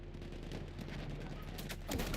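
Enemy machine gun fire in the video game Battlefield 1, a steady rattling burst continuing through the clip amid dense battlefield noise, moderately loud and sustained.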